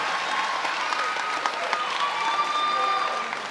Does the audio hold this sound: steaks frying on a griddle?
no